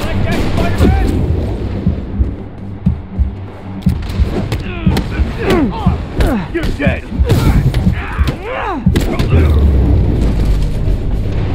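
Booming blasts and heavy thuds from Spider-Man Remastered erupt repeatedly amid chaotic crashes and whooshes, interleaved with speaking voices throughout.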